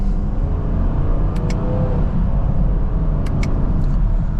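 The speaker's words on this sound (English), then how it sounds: "I'm doing a mild acceleration, so when you really get in the higher RPM, the V8s have a really good tone to them" A 2024 Chevrolet Camaro LT1 RS V8 pulls from second gear under mild throttle, a deep, steady engine rumble holding close and loud with a few faint clicks.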